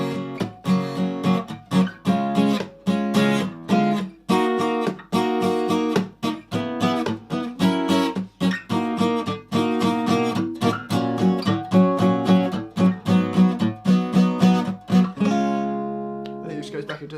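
Acoustic-style guitar strumming the chord progression of a song, a steady rhythmic run of strummed chords for most of the stretch, ending on a ringing chord as it fades, with no talking.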